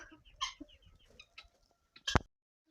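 Bantam chickens feed in a village yard, making quiet, scattered clucks and soft calls close by, ending with one sharp louder squawk.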